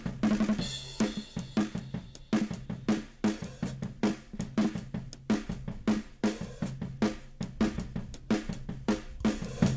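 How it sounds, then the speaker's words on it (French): Snare drum recorded with a Dynacaster microphone, played alone in a steady, slightly uneven groove of sharp, close hits repeating several times per second. "Ça c'est le son de caisse claire tel quel,"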